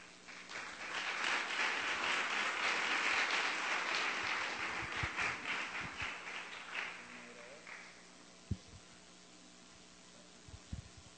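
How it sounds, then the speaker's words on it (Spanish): Symposium audience applauds the panelists, a broad sustained burst of clapping that swells, then tapers off around the middle, leaving room noise and a few faint taps and knocks. "Un fuerte aplauso para ellos."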